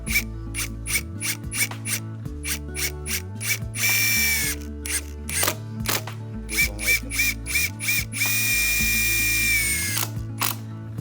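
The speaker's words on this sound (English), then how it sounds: "I screw the foundation shim to the bottom of the post." A screwdriver drill drives screws through a foundation shim into the bottom of a Japanese cypress post, with stepped whirring bursts, ratcheting clicks and two longer high-speed runs, loud and close.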